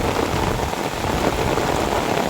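A downpour of heavy rain roars as a thick, unbroken wash of drops, loud and close with no voices.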